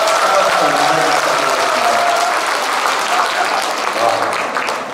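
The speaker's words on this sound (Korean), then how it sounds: "다시 한번 큰 박수로 한 번만" Concert crowd at a show in Sokcho applauding a janggu drum performance group, a dense, sustained wave of clapping with voices and some music mixed underneath.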